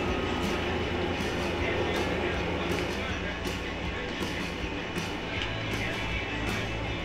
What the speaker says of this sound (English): So that's different to see a different train.